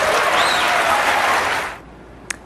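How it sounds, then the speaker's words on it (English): A debate audience bursts into loud, sustained applause and cheering for Ben Carson, which stops abruptly after about a second and a half, followed by near silence and a single faint tap. "earning one of his biggest applause lines of the night"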